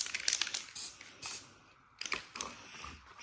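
Short bursts of aerosol spray paint, Ford Moondust Silver top coat, are applied to a Ford Focus ST225 wheel, close hissing puffs with gaps between them.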